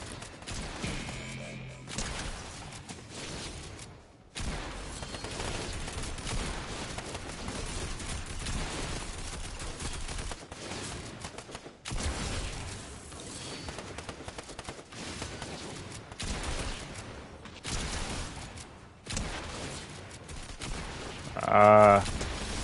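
Typhoon Blade gunfire in a video game, dense rapid bursts and repeated shots running almost nonstop, with brief gaps and a voice talking over parts of it.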